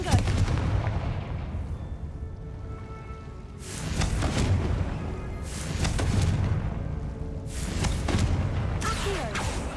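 Blasting-spell explosions in Hogwarts Legacy, a fantasy video game, go off as several loud, booming bursts spaced a few seconds apart over a constant low rumble of game ambience.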